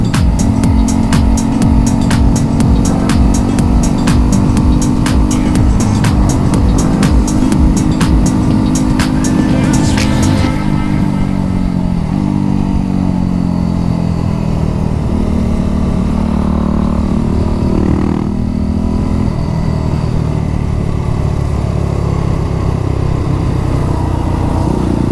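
A motorcycle ridden on a group road ride in strong wind, its engine droning steadily and loud throughout, with a sharper buzzing rattle over the first ten seconds and heavy low wind rumble beneath.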